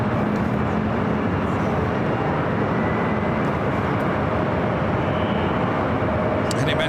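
Boeing 777 airliner taxiing and turning at LAX, a steady broad jet engine roar with low rumble filling the whole stretch, distant-to-moderate and continuous, with a voice talking over it.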